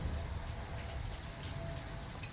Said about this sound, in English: I got a nice rainy Saturday morning here.